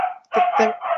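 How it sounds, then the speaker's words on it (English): A dog barks close up in a quick run of three loud barks, sharp and full, with a short gap after the first one. "I have to apologise for my dog there."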